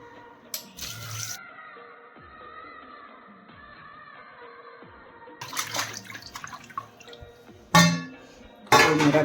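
Peeled carrots washed in water at home, with splashing and running water in short bursts between quieter stretches and clinks, ending in louder sloshes.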